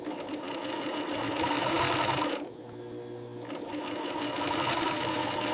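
Sewing machine stitching leather in a leather goods workshop, a steady, close mechanical chatter that stops briefly and then resumes.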